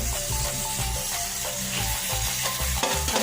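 Oil sizzles loudly and continuously in a pan while food fries and is stirred, close and dense, with rhythmic scraping and stirring knocks throughout and no talk.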